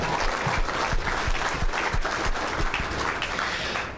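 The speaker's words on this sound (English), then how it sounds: "Let's give him a round of applause again." A banquet audience at an awards ceremony breaks into sustained applause, a full, steady wash of many hands clapping in a hall, with a few sharper nearby claps standing out.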